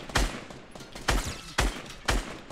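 Suppressed SMG gunfire in the Fortnite video game: four short, sharp bursts evenly spaced about a second apart, fairly loud and with no talk over them.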